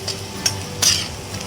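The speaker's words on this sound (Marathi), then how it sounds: "लसूण परतून घेऊया।" Chopped garlic for sev tomato curry is sautéed in a pan, with a soft sizzle broken by a few quick spatula scrapes and stirring clinks, up close.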